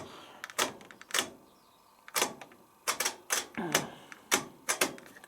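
Clicking of a washing machine's timer dial being turned: a string of sharp, close mechanical clicks arriving in irregular bursts with short pauses between them, heard on its own.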